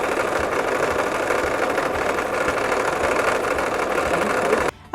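A sewing machine stitching free-motion across fabric pieces of a collage hem, a steady fast mechanical whirring hum that runs evenly and close before stopping abruptly at the end.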